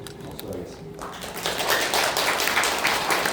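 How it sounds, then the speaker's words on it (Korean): A church congregation breaks into welcoming applause for a visiting retired pastor, building from scattered claps into steady, dense clapping from a roomful of people, with a voice speaking over the start. "잠깐 일어서 주시고 환영하는 박수 하겠습니다"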